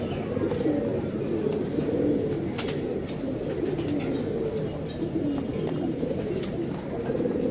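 Pigeons cooing steadily in a loft, low rolling coos repeating close by, with occasional brief clicks and flutters.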